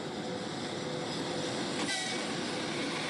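A Soviet Gulag prisoner train runs steadily, a dense continuous rumble of railroad cars with no pauses, loud and close throughout.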